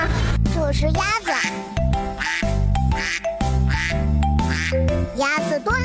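A cartoon duck quacks in a nasal, voice-like burst, repeated again and again among bright, busy children's cartoon sounds, loud and close throughout.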